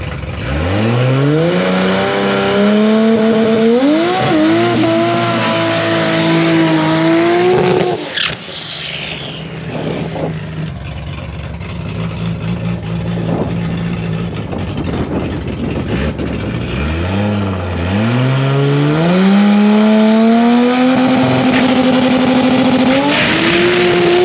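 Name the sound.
2JZ-engined Chevrolet Cobalt race car launching from start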